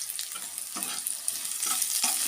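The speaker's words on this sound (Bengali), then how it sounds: "ও একটা শুকনো লঙ্কা ফোড়ন দেব" A dried red chilli tempers in hot oil in a kadai with frying onion, a close, steady crackling sizzle broken by a few scraping stirs.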